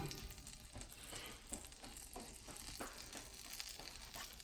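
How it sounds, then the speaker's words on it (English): Butter sizzling in a carbon steel pan gives a faint, steady crackling hiss with small irregular pops, quiet and continuous with no voices. "So we're gonna get a nice layer of butter in the pan."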